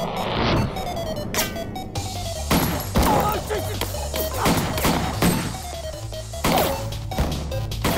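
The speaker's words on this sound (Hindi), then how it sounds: "गोली चला।" Gunfire rings out in a scene from the 2015 Bollywood film Welcome To Karachi: repeated sharp bangs and crashing impacts burst out over several seconds, mixed with voices and background sound.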